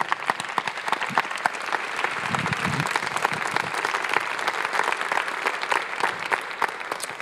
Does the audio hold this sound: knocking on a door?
no